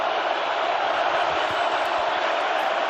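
A stadium crowd at an NFL playoff game, the NFC Championship between the Seahawks and Rams, roars as a dense, steady wash of distant noise without letup.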